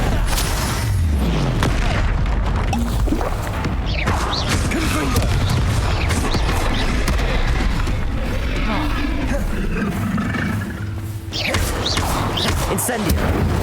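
Incendio and Confringo spell blasts in the video game Hogwarts Legacy: repeated booming bursts and crackling impacts in a dense, loud battle, with mechanical creaks and thuds, while voices shout spell names throughout.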